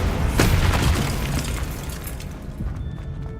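A Bombarda explosion spell cast in the Hogwarts Legacy video game gives a loud booming blast near the start, followed by rumbling debris and smaller crackling bursts that slowly fade.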